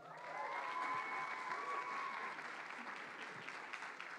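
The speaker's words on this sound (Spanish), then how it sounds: "Un aplauso." Audience applause at a conference talk on immersive VR narratives, a steady wash of clapping from a crowd that rises quickly, holds, and tapers slightly toward the end.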